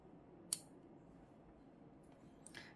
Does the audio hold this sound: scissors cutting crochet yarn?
yes